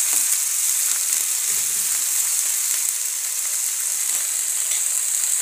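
Garlic and ginger paste frying in a pan for matar paneer, a loud, bright, steady hiss of sizzling oil held throughout with faint stirring beneath, no voices.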